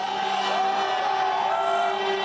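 A dense street crowd celebrating with vuvuzelas, a steady droning horn blare over a continuous roar of cheering and applause, loud and unbroken throughout.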